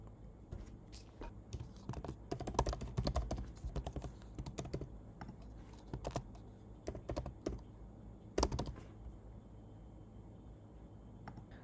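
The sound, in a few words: typing email and password on a computer keyboard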